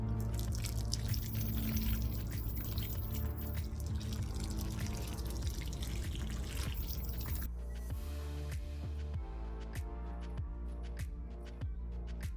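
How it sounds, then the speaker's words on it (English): Water is poured onto yellow sweet onion starters in pots. A steady splashing pour gives way to a string of distinct drips falling one after another, close and clear. "Pour a little water, get this a little wet."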